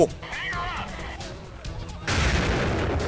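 Combat in the video game Delta Force: Black Hawk Down. Some thin, warbling game sounds come first, then a sudden broadband blast near the two-second mark rolls into a sustained, noisy rumble of explosion and gunfire.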